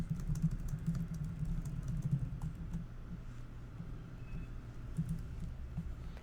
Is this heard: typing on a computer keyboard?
yes